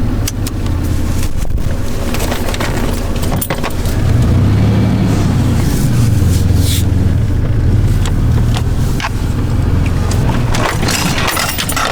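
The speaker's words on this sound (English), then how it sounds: "I just want to go pull over to a different spot in this Walmart parking lot" A 4WD Toyota Tacoma truck rolls slowly through a Walmart parking lot in winter, its engine giving a steady, close, low rumble with faint rattles and no talk.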